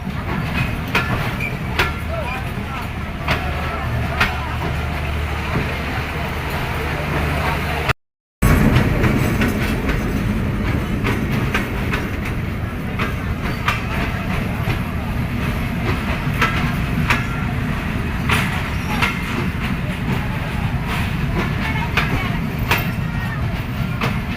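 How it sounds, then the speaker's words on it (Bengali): A train arrives at a station where bananas are loaded, rumbling with rhythmic clickety-clack of wheels and loud mechanical noise. There is a brief dropout partway through, and voices can be heard around it. "ট্রেন থেমেছে এবার ট্রেনে কলা ওঠানোর পালা"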